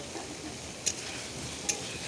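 Fried potatoes are stirred into a cooked spice paste in a pan, with soft scraping and two sharp clinks of the spoon against the pan over a faint sizzle, near and quiet.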